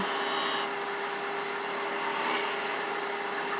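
A wood-turning tool, used like a small skew, rolls a bead on a spinning wooden spindle on a lathe, giving a steady, continuous scraping hiss with a faint constant hum underneath and no talking.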